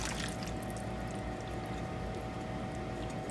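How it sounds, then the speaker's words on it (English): Thick enchilada mixture being poured from a container into a skillet, giving a steady, continuous wet pouring rush with no pauses and no one talking. "now we're gonna pour this into our pan"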